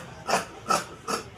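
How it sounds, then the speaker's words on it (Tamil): Scissors cut through cloth for the leg of a semi-Patiala churidar pant, three distinct rasping snips in an even rhythm, close and fairly loud, with no voices. "இப்போ கால் வெட்ட போகிறோம்."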